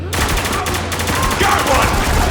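Loud, sustained automatic gunfire from the Spec Ops: The Line video game during a sandstorm escape, with rapid overlapping shots and a rumbling low backdrop throughout.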